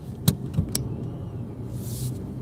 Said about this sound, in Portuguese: Tinha um carro entrando na garagem aqui do lado.